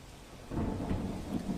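Monsoon rain falls in Navsari's Gandevi area, Gujarat, in a dense, steady wash that swells partway through, with a low rumble underneath; no one speaks.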